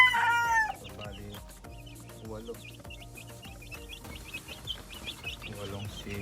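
Chickens in a backyard breeding yard cluck and crow, while three-week-old chicks peep in repeated high chirps across the clip. A rooster-like call opens it loudly, and faint voices sit under the birds.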